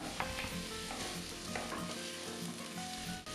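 Garlic and onion fry steadily in a saucepan, producing a dense, continuous crackling sizzle with scattered pops, faint and with no voices over it.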